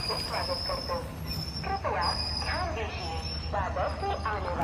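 Train noise at Kudal railway station platform 1 in Konkan: a steady low rumble with faint metallic squeals, while people talk nearby throughout.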